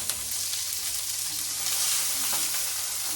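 Duck breast sizzles in a hot frying pan, giving a loud, steady, crackling fry that holds without pause for the whole stretch. No voices.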